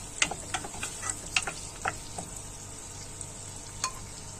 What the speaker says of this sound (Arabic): عندي هنا معلقة زبدة على معلقة سمنة، هنزل فيهم بصلة كبيرة متقطعة